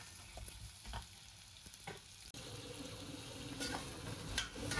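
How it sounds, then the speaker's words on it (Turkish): Low, steady frying crackle with occasional scrapes and stirring clatter from a small pot of sautéing vegetables, including carrots, for bolognese sauce, fairly quiet and close, no talking. "bu kadar sotelediğimiz yeter"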